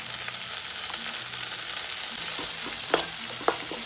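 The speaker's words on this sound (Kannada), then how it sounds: "ಕಸೂರಿ ಮೇಥಿ ಸೊಪ್ಪು ಫ್ರೈ ಮಾಡ್ಕೊಂಡ್ಮೇಲೆ" Kasuri methi leaves frying in a pan give a steady, close hiss of oil, with soft stirring scrapes and two sharper clicks near the end.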